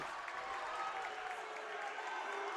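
Packed high school basketball gym crowd in South Range, a steady, fairly faint roar of applause and cheering carrying through the whole moment, with voices mixed in.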